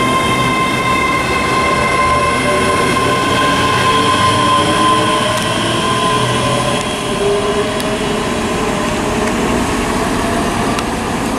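ScotRail locomotive-hauled train 17403 departs Linlithgow station for Edinburgh, a loud, close, continuous rumble with steady tonal engine whine and rail noise throughout.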